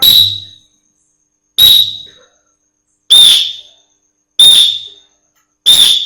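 A coach's whistle during a physical education class, blown in five sharp, loud, shrill blasts at an even pace about a second and a half apart, each fading quickly into silence.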